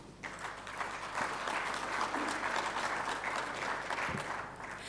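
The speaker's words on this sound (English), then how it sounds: "Let's start with just appreciating and giving ourselves a big round of applause." A conference audience at a mining sector event gives a full round of applause, swelling quickly to a broad, even roar of clapping that holds for several seconds before tapering slightly, with a low steady hum underneath.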